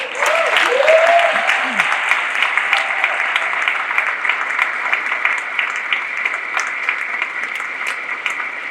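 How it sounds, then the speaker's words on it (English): Applause rings out for the music staff at a high school winter band concert, a steady hall-wide patter of clapping that slowly thins, with a few voices and whistles over it. "Let us go applaud for you."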